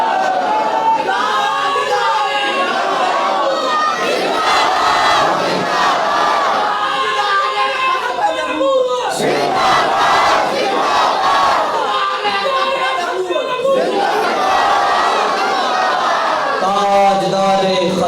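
At a religious gathering near a mosque, a large crowd roars out chanted slogans in loud, repeated bursts, voices surging together in waves with short pauses between calls.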